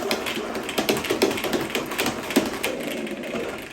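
A Vileda Spin & Clean mop bucket spinning the mop head dry, giving a rapid ratcheting, clicking mechanical whir with steady rhythmic pulses close by and no talk.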